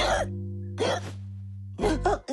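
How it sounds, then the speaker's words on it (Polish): Cartoon character hiccupping from laughing too hard: short bursts of sharp hiccup-like vocal sounds at the start, middle and end over a steady low musical hum, with no speech. "Jak mam pozbyć się tej czkawki?"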